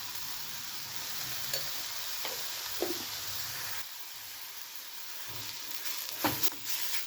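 Chili powder sizzles steadily in hot oil in a pan, stirred in with softened onion and tomato as the base of a fish curry. A constant loud frying hiss is broken by a few short scraping stirs, with no talking.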